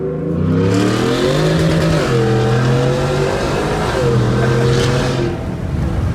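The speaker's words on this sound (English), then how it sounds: "It's just funny hearing a truck make those noises." Supercharged Ford pickup, a 2019 F-150 Lightning-style truck with a TVS 2650 supercharger, revs and accelerates hard from inside the cab, engine note rising in two loud sweeping pulls with a brief shift between them.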